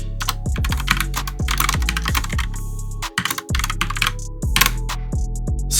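Fast typing on a Logitech computer keyboard, a rapid irregular run of sharp, close key clacks with a brief pause midway, no voices.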